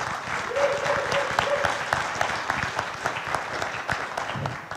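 Audience applause at a Libertarian Party of Wisconsin convention during a keynote speech, a moderate, fairly distant patter of many hands that swells slightly and holds steady, with a brief tonal hum near the start.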